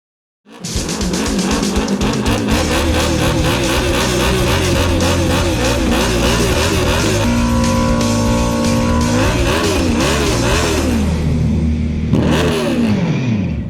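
A car is driven out of a ground-floor driveway: the engine starts, then revs and runs loudly and close, with its pitch rising and falling through several throttle changes.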